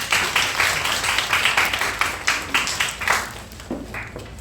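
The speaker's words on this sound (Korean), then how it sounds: "인사드릴 테니까 박수로." A congregation applauds during a Sunday church worship service, with dense rhythmic clapping that stays steady and close and then thins and fades toward the end, with no voices over it.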